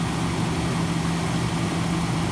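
A Rover SD1 car engine idles steadily just after starting, a loud, even low hum that runs unbroken throughout.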